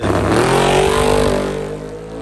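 A Mustang with a 5.5 engine running on E85 launches down a drag strip, its engine revving hard and loud up through the gears, then fading slightly as the car pulls away.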